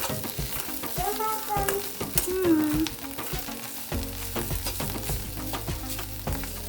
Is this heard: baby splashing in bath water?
no